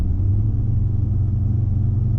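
A Ford Ranger engine gives a low, steady rumble as the driver floors it on a test drive, a close droning roar that holds even for a couple of seconds.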